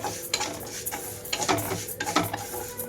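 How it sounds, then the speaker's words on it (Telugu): Moong dal roasting in a pan on low flame while being stirred, with dry scraping and rattling of lentils and a few clinks of the utensil against the pan, close by. "పెసరపప్పును వేయించుకుంటున్నాను"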